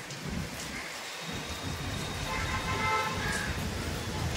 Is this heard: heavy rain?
yes